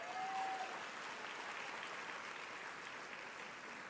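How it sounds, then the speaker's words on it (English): An audience at a keynote conference session claps in a steady, even round of applause that holds throughout at moderate loudness, from a distance. "Show me by a round of applause."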